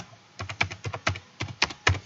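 Someone types a quiz title on a computer keyboard, about a dozen quick, crisp key clicks in irregular bursts, close and clear with no talking.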